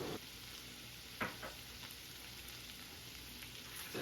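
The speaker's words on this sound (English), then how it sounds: "And now we're just going to mix in the seasonings and let it saute for a few seconds." Peppercorns and seasonings sautéing in a pan for a Dominican-style stewed chickpea dish, a faint, steady sizzle running throughout with a couple of brief stirring clicks.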